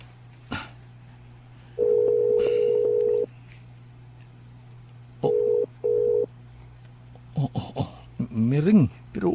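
A telephone keypad is dialled with several distinct tone beeps in short bursts, then people speak and a voice rises near the end.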